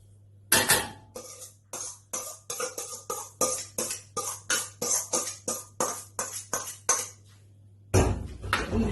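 Crushed potato goes onto a fish pie as a utensil strikes the dish again and again, about a dozen close, evenly spaced clinks and taps, followed by a louder clatter of handling at the end. There is no speech.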